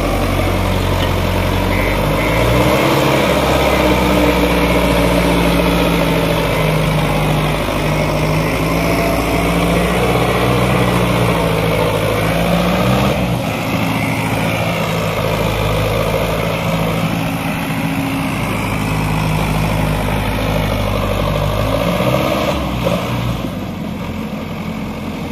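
Two tractors, a Sonalika 750 and a Swaraj 744 XT, pull a heavy double-tyre trolley loaded with soil, their diesel engines droning loud and continuous with a deep low rumble throughout.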